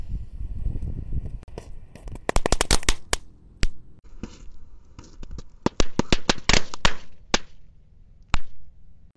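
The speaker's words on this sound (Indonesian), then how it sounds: "Yang pertama kita nyalakan ini adalah mercon tank" A small wheeled, tank-shaped firecracker goes off outdoors in loud, rapid volleys of sharp crackling pops, followed by a brief pause and another dense run of snaps and bangs.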